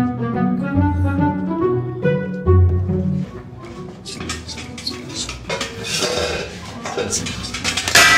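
Metal basins and bowls clank and clatter as they are handled during a daytime theft in a Bengali comedy sketch, loud ringing knocks and rattles mixed with music and voices.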